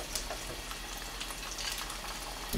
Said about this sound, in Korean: 여기 안에 이제 식용유 요 기름 안에서 이제 끓여야 돼요.